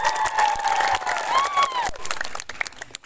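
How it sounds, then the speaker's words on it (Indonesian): Applause and cheering from an audience at a children's Bible storytelling contest, crowd noise with clapping and some tonal whistling or voices, fading out toward the end. "Berikan tepuk tangan."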